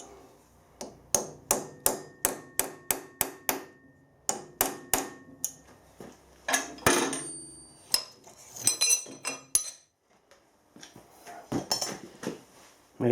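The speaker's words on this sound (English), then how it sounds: "we'll mark this one with a transfer punch." Sharp metallic taps ring out in quick rhythmic bursts as a hammer strikes a transfer punch to mark metal, about a dozen strikes close by, followed by looser clinks and scraping of metal.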